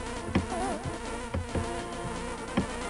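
Bees buzz in Zelda: A Link to the Past, a steady droning hum with sharp game sound effects popping in at intervals.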